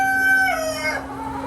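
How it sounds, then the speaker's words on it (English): Chickens crowing and clucking in a flooded yard where the birds crowd onto a shrinking patch of high ground; a rooster's drawn-out crow dominates, close and fairly loud over a steady low hum. "The chickens have been able to get to a little bit of high ground"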